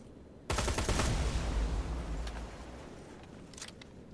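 Automated turret in Terminator: Resistance opens fire with a sudden, loud, dense burst of rapid gunfire that runs for about two seconds, then tapers into rattling echoes and a few faint later shots.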